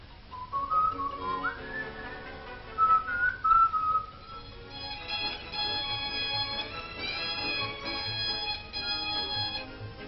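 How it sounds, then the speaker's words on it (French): A wheelwright working in front of his door whistles folk tunes, with clear melodic whistled phrases rising and falling, rather faint in a village setting, then higher, sharper whistled notes later. "Le charron devant sa porte travaille avec les mêmes gestes et siffle les chansons que sifflent"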